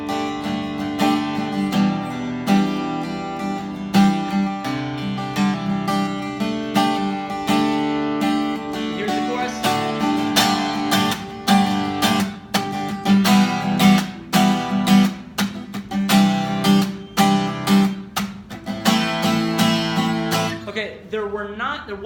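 An acoustic guitar plays the verse of a song, strummed in a steady rhythmic pattern of chords with accented strokes, close and clear for about twenty seconds before stopping with a short muted scrape.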